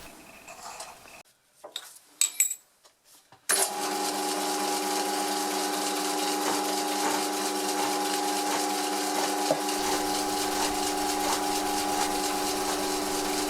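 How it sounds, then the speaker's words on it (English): A slitting saw running slightly out of true while cutting a button die, a steady machine whine with strong tonal hum and faint rhythmic pulsing, starting abruptly after a few short clanks and continuing loud to the end. "this slitting saw sounds like it's out of true"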